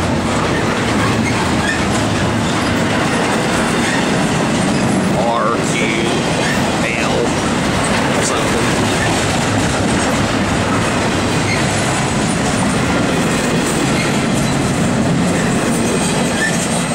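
A CSX intermodal freight train rolls steadily past on the Monroe Subdivision near Winston-Salem Junction, a loud continuous rumble with wheel clatter filling the whole stretch up close.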